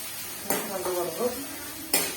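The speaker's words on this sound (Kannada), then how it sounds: "ಈಗ ಕಟ್ ಮಾಡ್ಕೊಂಡಿರುವಂತ ಉಳ್ಳಾಗಡ್ಡೆ ಚೆನ್ನಾಗಿ ಫ್ರೈ ಮಾಡ್ಕೊಂತೀನಿ" Chopped onions fry in about four tablespoons of hot oil in a pan, with a soft sizzle broken by a couple of sharp clatters and scraping as a utensil stirs.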